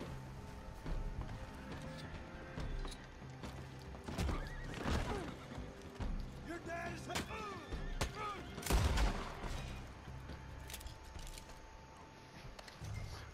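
Horses in the Red Dead video game whinny a few times amid a busy soundscape of gunfire, hoofbeats and other game effects.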